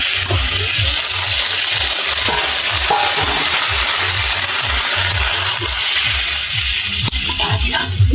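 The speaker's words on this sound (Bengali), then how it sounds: "এবার আমি জল ঢেলে দেবো" Water hits a hot pan of well-browned curry, setting off a loud continuous sizzle and bubbling hiss with a rhythmic low stirring churn beneath, and a sharp clatter near the end.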